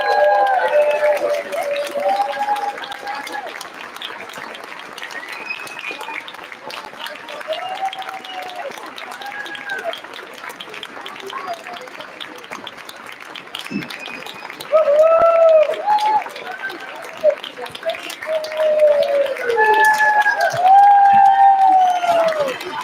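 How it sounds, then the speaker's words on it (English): Audience applause at a first and second grade school concert, moderate clapping from parents and families running under melodic, sliding voices and chatter, growing louder near the end. "Keep the applause coming."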